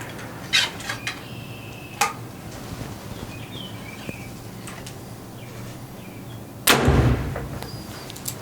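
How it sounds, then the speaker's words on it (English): Arrow shot from a Hoyt RX-8 bow striking a target outdoors during bareshaft tuning: a single loud, sharp impact near the end, with a few fainter clicks and knocks earlier over a quiet background with faint birds. "Arrow almost went through the target"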